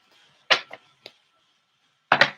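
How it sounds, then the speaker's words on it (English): Quick papery riffles of tarot cards being shuffled, a few short bursts with pauses between, close and fairly loud, no voices. "One more shuffle and we're good."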